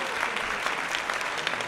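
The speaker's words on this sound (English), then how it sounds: "give him a round of applause" Brief applause during a casual podcast-style show, a dense wash of clapping that stays steady and even for under two seconds.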